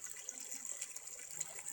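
Water flowing steadily from a natural spring, a continuous bright, close trickle and splash with no voices.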